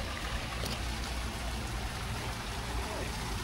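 Steady flowing water, a continuous trickling stream running at close range with a constant broadband wash and low rumble, no voices over it.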